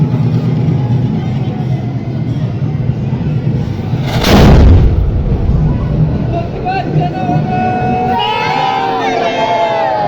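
A single booming ceremonial cannon salute rings out partway through the palanquin procession at Jyotiba temple, rising over a steady din of crowd noise and voices that carry on before and after the blast.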